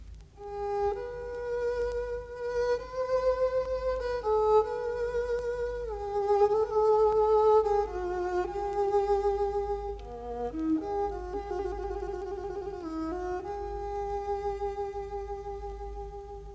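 A violin muted by a small clip fitted to the bridge across its four strings plays a slow, sustained melody with a soft, veiled tone over a low steady hum.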